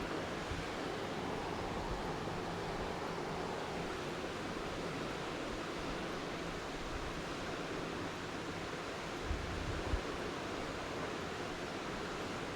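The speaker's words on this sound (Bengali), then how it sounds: "বাকি মাংসগুলোও আমি দিয়ে দিচ্ছি।" Chicken pieces frying in hot oil in a home kitchen for chicken chaap, a constant dense sizzle and crackle that holds steady throughout, close and fairly loud.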